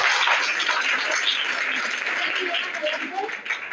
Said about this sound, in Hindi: अंशु मौर्य का सही जवाब है, इनके लिए आप लोग तालियां बजाइए